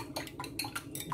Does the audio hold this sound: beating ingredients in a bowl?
yes